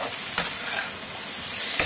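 Potato pieces frying in a pan with salt added after browning, a steady broadband sizzle held close throughout, with two brief louder scraping stirs, no talking.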